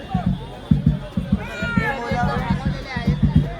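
A dense procession crowd, with Banjo party drums thumping in steady rhythmic bursts for the Kalachowki Mahaganpati arrival, a surrounding babble of voices and whistle-like tones riding over the beat.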